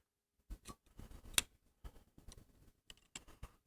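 Scissors cutting a rubber hose, a series of faint, close, sharp snips and clicks in an irregular rhythm in an otherwise quiet room, with no talking.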